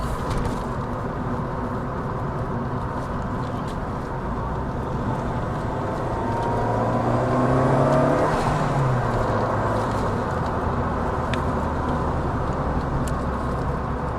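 A 2.0-liter Lancia Delta HF Integrale Evoluzione II accelerating on the road, heard from inside as a steady engine drone and road roar that swells and climbs in pitch midway, then settles back.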